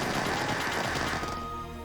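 A Firecracker attack in the Romancing SaGa re;UniverSe video game: a loud, dense burst of rapid crackling explosions, like machine-gun fire, that fades into a ringing tonal tail.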